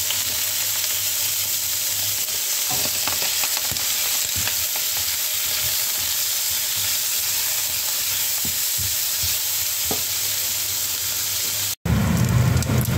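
Half a kilo of pork belly sizzles and crackles loudly in a hot pan, a dense steady frying hiss with scattered pops and occasional stirring clatter, shifting abruptly near the end.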